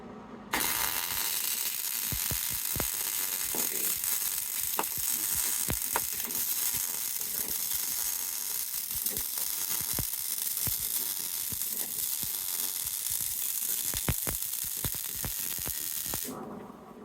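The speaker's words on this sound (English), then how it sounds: "Right now, we're gonna weld up all the stuff that we can." Welding metal on a C10 truck frame C-notch gives a steady, loud crackling hiss with dense popping that runs unbroken for most of the stretch and stops abruptly near the end.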